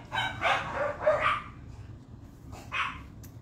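Several household dogs bark indoors in a few short bursts, moderately close, with pauses between volleys and a final brief bark near the end.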